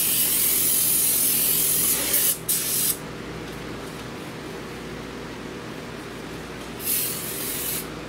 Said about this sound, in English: this good stuff right here is carbon choke cleaner